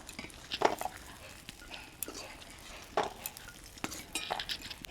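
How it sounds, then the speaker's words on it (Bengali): Lentil dumplings (bori) frying in oil in a pan, a soft low sizzle punctuated by occasional scrapes and clinks of stirring, fairly quiet and close. "বড়িগুলোকে এরকম লাল করে ভেজে নিয়েছি এবারে তুলে নেব"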